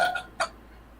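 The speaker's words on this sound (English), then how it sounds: "A little bit of stomach acid in that burp." A person lets out a short, close burp that rises sharply, then the clip goes nearly quiet, with no speech.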